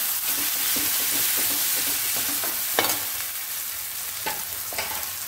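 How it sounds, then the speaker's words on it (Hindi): Ginger garlic paste frying with onion and a pinch of salt in a pan, a constant close sizzle with scattered spatula taps and scrapes against the pan, no voices. "अब अदरक लहसुन का पेस्ट इसको भी डाल के भूनेंगे"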